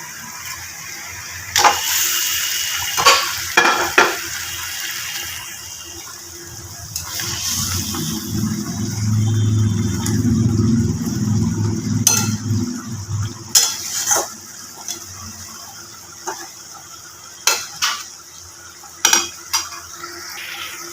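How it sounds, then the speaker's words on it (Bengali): Shol fish is added to boiling spiced gravy in a pan and stirred, producing a bubbling simmer with scattered sharp clinks and scrapes of the spoon against the pan, and no talk. "তো ঝোলটা ফুটে উঠেছে মাছগুলো আমি দিয়ে দেবো"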